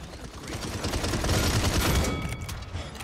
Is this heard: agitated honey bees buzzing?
no